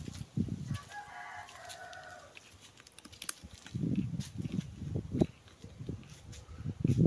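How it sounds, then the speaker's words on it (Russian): Hens cluck in low, repeated bursts from several birds nearby, with a rooster crowing faintly in the middle. "Все квохчут."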